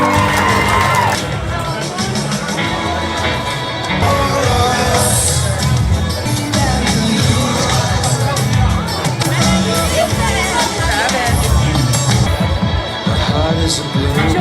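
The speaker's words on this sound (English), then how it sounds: "give yourselves a round of applause" Wedding reception guests at The Imperia cheer and clap in a loud, continuous crowd roar with shouts and babble, filling the room throughout.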